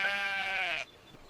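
A single sheep bleats loudly and close for under a second with a wavering, nasal tone, then falls to quiet outdoor background while it grazes on clover grass.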